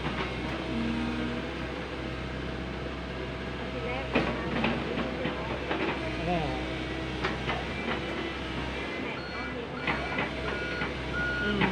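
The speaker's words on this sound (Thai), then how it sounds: "เสียงถอย" Komatsu PC130 excavator reversing beeps sound steadily over a constant low engine rumble at a roadwork site, with occasional clanks and faint talk nearby.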